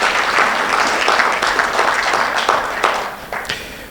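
An audience at a bankers' mediation summit applauds a newly inaugurated vice chancellor, a dense, close burst of clapping that thins out and tapers over a few seconds.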